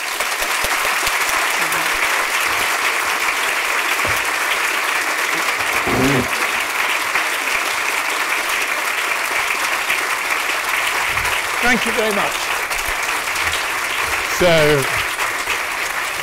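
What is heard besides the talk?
audience applause at literary festival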